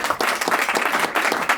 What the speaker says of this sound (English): round of applause to my students who've come out on an evening and helped set up certain things as well.